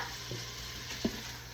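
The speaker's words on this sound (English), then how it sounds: "I'm just going to sear this all over really well." Meat seasoned with smoked paprika, garlic powder and cowboy butter seasoning searing in a pan, a soft, steady hiss with a couple of faint clicks.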